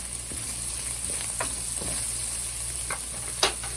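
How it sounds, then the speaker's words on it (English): Saltfish with garlic frying in a pan gives a steady, close sizzling hiss, with occasional sharp pops and ticks of spitting oil and no voices. "you're going to fry this saltfish here properly till it gets crispy. Add in the garlic now"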